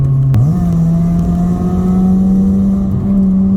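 A 2004 Honda Civic EP2 with a straight pipe is held at redline while standing still, its engine a loud, continuous droning rasp that barely wavers after a quick blip at the start.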